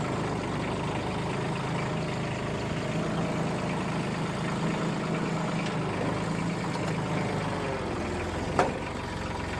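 A tractor engine idles steadily with a low, constant rumble, close by and unchanging, with a brief faint knock near the end.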